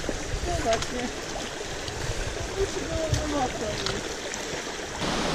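Steady broadband rush of a shallow river flowing over stones on a trek to Gurgeniani waterfall in Georgia, continuous and fairly close, with faint scattered noises on top.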